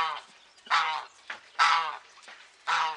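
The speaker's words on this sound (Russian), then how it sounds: "Гуси в снег пошли, Владик" Geese, two white and two black, honk loudly and close by while walking on snow, three harsh calls spaced about a second apart, with quieter calls in between.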